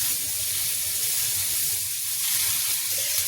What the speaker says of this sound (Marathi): पहिला कांदा टाकू आणि थोडंसं तेल टाकून हे थोडं पिंक होईपर्यंत आपण फ्राय करून घेऊ